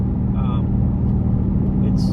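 Inside a straight-piped 2007 Mustang GT cruising down the road and shifting around 3,000 RPM, a steady low exhaust drone fills the cabin, with brief faint sounds over it.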